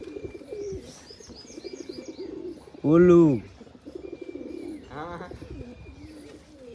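Fancy pigeons coo in a loud, close burst, then a softer second round, with lighter chirps and people talking throughout.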